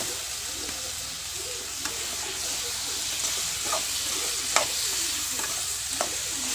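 Green beans stir-frying with tomato in coconut oil: a steady, even sizzle with occasional light spatula taps and scrapes, close and moderately loud, no talking.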